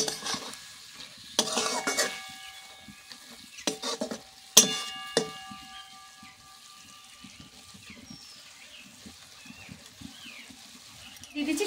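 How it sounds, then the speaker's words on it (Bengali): Fried okra gently stirred in a spiced pan, a soft sizzle underneath with several distinct knocks and scrapes of a spoon against the pan, fading to a quieter simmer toward the end. "এবার আমি ভেজে রাখা ঢ্যাঁড়সগুলো দিয়ে দেবো। খুব হালকা হালকা করে নেড়ে দেবো,"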